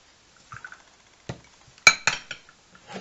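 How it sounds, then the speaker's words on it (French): Small ceramic dessert plates and bowls being handled, giving a handful of sharp, separate clinks and taps, close and spaced irregularly over quiet. "J'ai pris des petites assiettes à dessert comme ceci pour 70 centimes."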